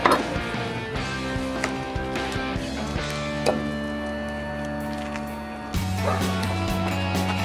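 A dog barks in a kitchen where raw meat is prepared on a cutting board, giving several sharp yips over steady background noise and faint clatter.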